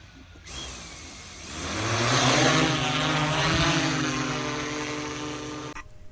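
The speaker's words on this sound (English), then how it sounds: "The drone was super helpful." A drone hovers and sweeps overhead during a search for a downed deer buck, its buzzing propeller whine swelling from quiet to a steady, fairly loud drone that holds for several seconds before cutting off, with no talking.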